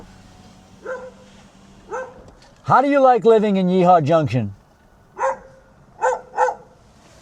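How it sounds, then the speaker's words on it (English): An unleashed dog outdoors in Yeehaw Junction, Florida barks in short, separate bursts: a couple early, then a quick cluster near the end. Someone talks loudly to it in between. "who's barking at me, an unleashed dog who's not happy that I'm here"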